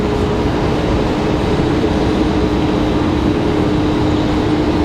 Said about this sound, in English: Southwest 207 coming in from Chicago Midway, 737-700